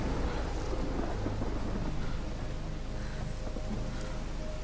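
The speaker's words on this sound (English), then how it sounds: "Man, the thunder looks freaking scary." Heavy steady rain and rolling thunder in a stormy outdoor scene in the game Life is Strange, a dense continuous roar with no voices over it.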